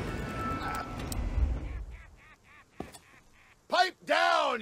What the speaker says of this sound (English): What be I offered for these hearty hens?